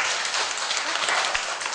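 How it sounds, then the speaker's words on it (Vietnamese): A primary school class claps together for a pupil who answered correctly, a dense, steady patter of many small hands filling the room for under two seconds, with no talking over it. "Lớp thử với bạn Vịnh chào vỗ tay nào"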